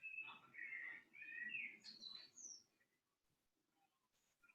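Several birds chirp and tweet in quick, high bursts over about three seconds, fairly close and clear. Near silence follows, with only a faint call or two.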